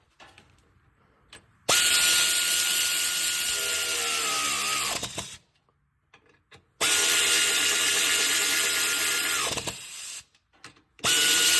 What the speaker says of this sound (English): Finish that one off with a ratchet.